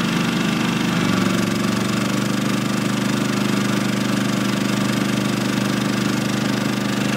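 A portable generator with economy mode off runs continuously at a steady, loud drone with a rhythmic throbbing, close up, with no voices or other interruptions.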